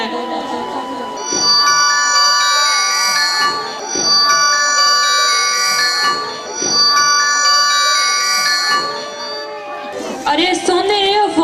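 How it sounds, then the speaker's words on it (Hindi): A telephone rings loudly and steadily in a home, its bell-like tone repeating in long sustained bursts roughly every two and a half seconds, joined near the end by other clattering sounds. "फोन बज रहा है"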